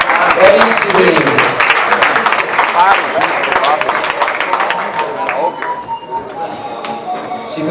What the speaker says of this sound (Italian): Un grande applauso per i nostri colleghi, bravissimi.